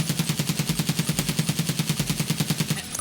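SCAR-L rifle firing in Escape From Tarkov, a rapid sustained burst of sharp, evenly spaced shots, loud and close, continuing for about three seconds before cutting off.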